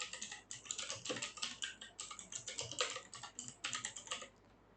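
Rapid, steady clicking of computer keyboard keys in continuous bursts with brief pauses, close and clear, with no talking.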